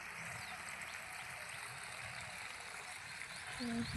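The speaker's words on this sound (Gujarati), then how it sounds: "ચાલુ છે પાણી તો મોટર ચાલુ છે અને અહીંયા પાણી જાય છે મકાઈમાં" Irrigation water from a running pump motor flows along a channel into a maize field, a steady, continuous outdoor rush of water heard throughout at moderate level, without talk.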